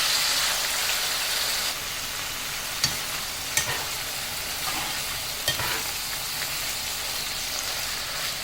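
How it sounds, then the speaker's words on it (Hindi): Chicken pieces stir-fried with ginger and garlic over a high flame, giving a loud, steady hiss and sizzle throughout, broken by a few sharp clacks of the spatula against the pan, close and without talk. "अब इसमें मैं ये सारा चिकन शामिल कर दूँगी। इसके बाद और इसको हाई फ्लेम पे अच्छे से मिक्स करूँगी।"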